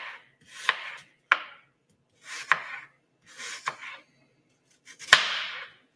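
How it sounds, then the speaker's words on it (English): Knife chopping on a cutting board for a pie, a close series of crisp separate cuts with brief scraping in between and short pauses, about six strikes with no talking. "I just flip it, and then I keep cutting"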